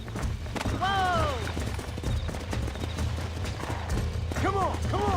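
Horse galloping in Red Dead Redemption, rapid rhythmic hoof clops under game sounds, with a whinny early on and another near the end.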